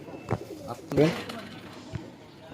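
Pigeons cooing nearby, a couple of low soft coos amid short thumps and rustling, with someone speaking over them.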